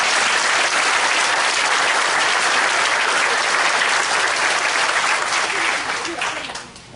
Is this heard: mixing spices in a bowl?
no